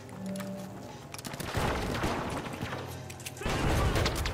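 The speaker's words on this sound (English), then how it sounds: "They're shooting at us, but I do not see them." Bursts of gunfire and crashing impacts from the video game THE FINALS, loud and dense, with several heavy volleys that swell near the middle and again toward the end, no talking.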